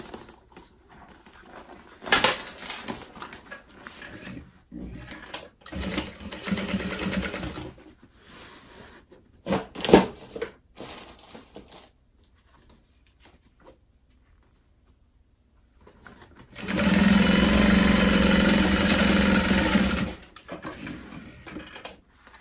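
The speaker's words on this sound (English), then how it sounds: "So now I can sew this closed." A sewing machine closes up a tote bag with a lining tucked inside, a steady mechanical run of a few seconds following scattered handling noises and quiet pauses.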